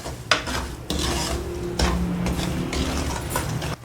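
Semolina roasting in desi ghee with cardamom for halwa is stirred in a pan, producing repeated scraping and gritty rasping strokes of a spoon over a faint sizzle, close and steady.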